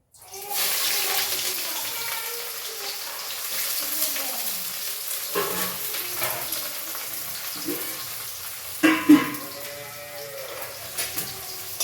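Chopped onions hit hot oil in a pan, a sudden continuous sizzle that fades gradually, with a few spatula scrapes and knocks heard close by.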